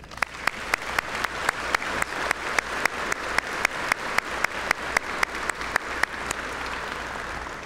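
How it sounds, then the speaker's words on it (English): Audience applause at a military change of command ceremony: a steady bed of many hands clapping, with one nearby pair of hands beating a fast, regular rhythm above it and no talking. "Please join me in a round of applause."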